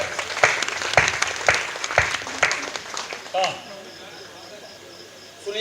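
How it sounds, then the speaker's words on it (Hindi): Audience at a Hindi poetry gathering claps in a run of distinct, fairly loud beats for several seconds before fading to quiet room tone, with a voice rising briefly in the middle. "अगर आप सुनना चाहते हो तो एक बार हाथ उठा के तालियां बजाएं।"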